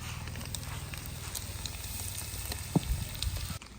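Ginger garlic paste sizzles steadily in a hot pan, a continuous close crackle and hiss with a brief pop near the end, no voices present.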